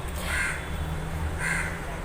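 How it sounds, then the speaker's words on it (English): A crow caws twice in the early evening, two clear, evenly spaced calls close by and fairly loud over a quiet background. "So okay, this crow."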